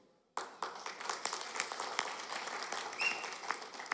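An audience at a film event breaks into applause, many hands clapping together in a dense, sustained burst that starts abruptly and carries on steadily, with no talk over it.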